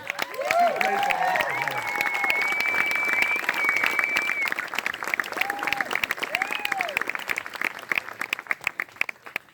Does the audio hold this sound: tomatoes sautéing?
no